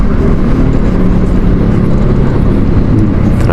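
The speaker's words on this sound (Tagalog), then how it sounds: "Traffic na naman." Steady, loud road traffic rumble in a congested stretch near Greenhills and Annapolis, with dense low engine drone continuous throughout and no talking.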